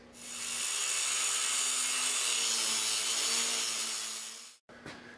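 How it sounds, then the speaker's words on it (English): Power saw cutting steadily through the steel trunk of a welded metal tree sculpture, a loud, continuous grinding rasp lasting about four and a half seconds before stopping abruptly, followed by a brief clatter. "we're gonna cut the trunk off"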